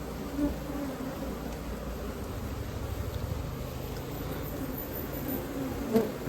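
Honeybees buzzing steadily and close by inside a ring compost bin, a continuous droning hum with no talking.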